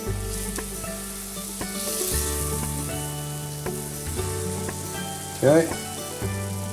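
Meat sizzles loudly in a very hot pan set to low-to-medium heat, a steady dense crackle with brief stirring clatter and a short spoken word near the end.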